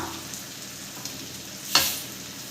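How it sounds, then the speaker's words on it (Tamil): Dried manathakkali berries fry in hot oil for a tangy vatha kuzhambu, giving a soft, steady sizzle with a brief louder crackle and stir partway through. "இதையும் நல்லா இந்த எண்ணெயிலேயே நல்லா ஃப்ரை பண்ணிக்கலாங்க"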